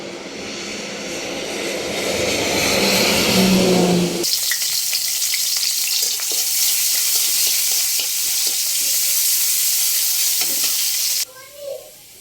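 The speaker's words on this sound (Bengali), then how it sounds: "যে আমি তেলটা দিয়ে দেবো এখন" Oil in a pan for a pointed gourd and rohu fish curry gives a loud, roaring sizzle that changes character partway through. It hisses on steadily for several seconds, then stops abruptly near the end, leaving a few faint clinks.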